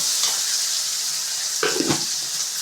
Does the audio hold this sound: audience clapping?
no